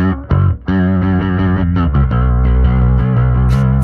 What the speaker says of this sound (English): It's kind of the more of the vibrato setting